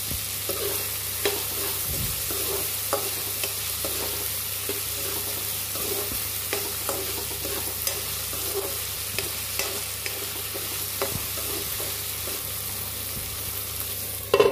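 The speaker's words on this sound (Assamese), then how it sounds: "অকনমান মই ফ্ৰাই কৰি লম আলু আৰু বুট।" Potatoes and red chickpeas fry in a pan, a steady broadband sizzle with scattered spoon scrapes and clinks throughout, close and moderately loud with no talking.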